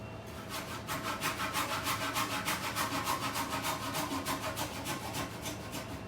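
A hand saw cuts through a wooden stair rail post in steady, rapid back-and-forth strokes, a close, even rasping rhythm that holds for several seconds with no voices.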